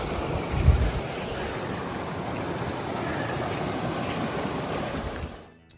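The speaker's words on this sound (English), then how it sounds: "waterfall." A waterfall on the Delta Lake hike in the Grand Tetons near Jackson Hole, Wyoming, gives a steady rushing wash of water beside the trail, fairly close, with a brief low thump early and fading out at the end.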